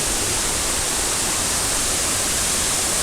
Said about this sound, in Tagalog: Another falls ulit. Mas maganda to.